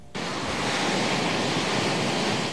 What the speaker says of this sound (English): high waves, a godsend for surfers at beaches like Lawrencetown east of Halifax